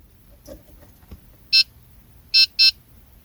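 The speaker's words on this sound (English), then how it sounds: "When you hear the two beeping sound, switch the ignition off." A key fob programmer connected to a 2016-2020 Honda Civic gives one short electronic beep, then a quick pair of beeps close together, sharp and clear against near silence.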